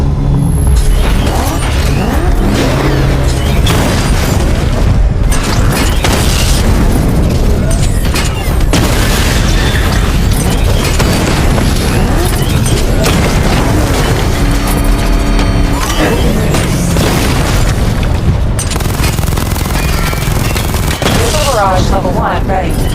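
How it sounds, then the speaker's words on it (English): Dense, continuous loud explosions, booms and cracks from a missile barrage in the Batman: Arkham Knight video game, layered with a synthetic voice announcing system messages throughout. "Destroy targets to charge up weapon energy and activate missile barrage."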